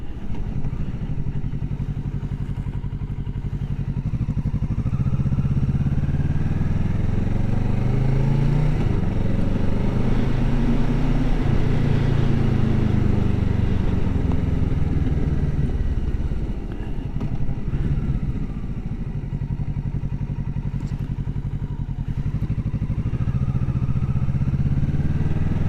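Motorcycle ridden on the road while the rider shifts up and down through the gears, the engine note rising and falling continuously over a loud, steady wind and road roar.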